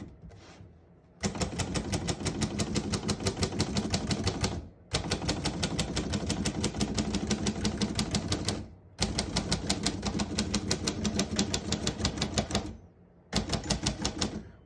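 A 1938 Royal O Model portable typewriter is typed on, producing loud, rapid, even key strikes in three long runs and a short final burst, separated by brief pauses, with no talk.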